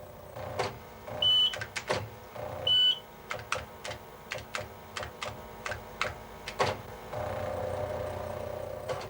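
A computer line printer runs in an office with a low hum underneath. Sharp clattering strikes come in irregular bursts, broken by two brief high electronic beeps.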